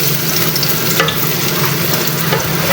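Garlic and onion sauté in a hot pan, giving a dense, continuous hiss and crackle that stays close and loud, with a few stirring scrapes and no talking.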